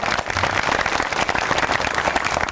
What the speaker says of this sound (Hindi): आप सभी उनका तालियों से स्वागत करें।